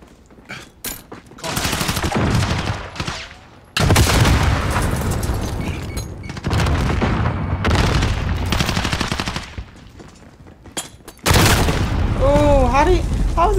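Rapid automatic gunfire and blasts in Call of Duty Modern Warfare come in loud bursts separated by brief pauses, with a player talking over the action.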